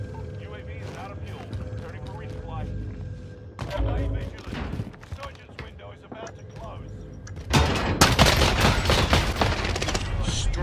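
Gunfire in an Anubis video game battle: repeated shots and bursts over music and talk, growing louder and denser toward the end.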